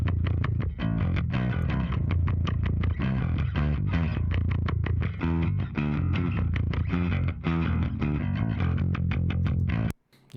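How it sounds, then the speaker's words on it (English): A gritty, distorted electric bass plays a busy riff of fast, punchy notes, loud and continuous until it cuts off near the end. "Here is my bass."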